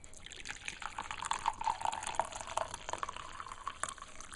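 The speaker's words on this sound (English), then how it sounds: "once the ginger has had time to infuse, I'll pour it into a cup" Ginger infusion poured into a cup, a steady thin trickle of liquid with small bubbling tones rising and falling, soft and close, running for several seconds.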